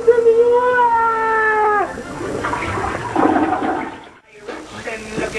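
A toilet flushes loudly, a steady rushing swirl after a brief high tonal squeal, then fades out with a short gurgle at the end.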